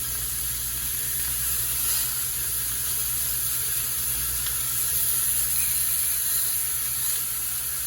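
Hot dogs, opened up and laid flat in the bottom of a skillet, sizzle with a steady, loud crackling hiss that holds even throughout, close by and without talk.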